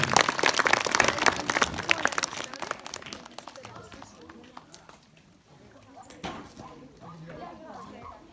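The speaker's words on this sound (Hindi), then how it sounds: "एक बार जोरदार तालियां।" Loud applause from a crowd at a school Republic Day celebration, dense clapping for about four seconds that thins and fades, with a brief swell later.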